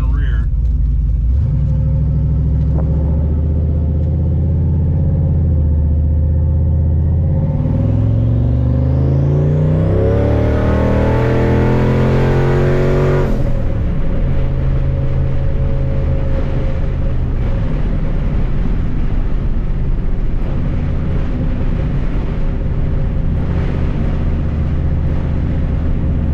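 A turbocharged Ford Mustang at wide open throttle, heard from inside the car: a loud, droning engine climbs steadily in pitch through a hard pull, then drops off sharply and settles back into a lower rumble.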